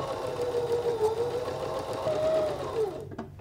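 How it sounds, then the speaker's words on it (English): A sewing machine runs steadily as it stitches around the edge of a fabric Christmas stocking, a close, continuous mechanical whir that stops near the end. "So I'm gonna grab my sewing machine."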